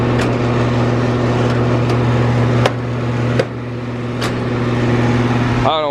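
A Rheem Classic central air conditioner runs with a steady, loud mechanical hum, joined by scattered rattling clicks and a few sharp knocks before the motor note shifts at the end.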